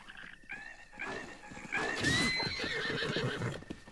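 Horse from Zelda: Breath of the Wild neighing, a shrill whinny rising then wavering for about two seconds, close and clear over faint hoof clatter.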